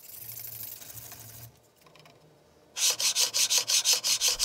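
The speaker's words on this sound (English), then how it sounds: "I also sanded the pieces with a bit of wet and dry when they were secured to the C-beam." Wet and dry paper sands MGN12 linear rail guide pieces clamped to a C-beam, first as a soft continuous rubbing, then after a pause as a loud, rhythmic back-and-forth scrubbing with about a dozen even strokes.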